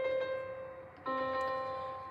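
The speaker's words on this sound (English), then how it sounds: "Octave down sounds like this." A held musical note is followed by a second note an octave lower that sustains steadily, quiet and clean with no talking.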